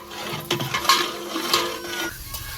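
Garlic being stirred in a cooking pan, with soft scraping and light clinks of a utensil against the metal, a few sharper knocks standing out near the start, close and moderately quiet, no talking.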